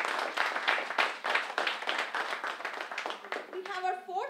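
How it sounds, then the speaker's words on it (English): Audience clapping for a judge at a persuasive speech competition, a dense burst of many hands that carries on steadily under a talking voice and fades slightly near the end. "A big round of applause for Dr."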